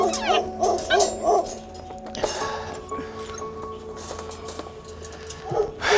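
A stray puppy among dumped dogs yelps and whines in a rescue setting, several high, close cries early on, a quieter middle, then more yips at the end.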